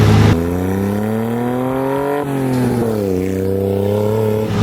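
A three-wheeler's engine revs loudly and close, its pitch climbing steadily, dipping briefly, then climbing again in a sustained, strained whine on the approach to a dam.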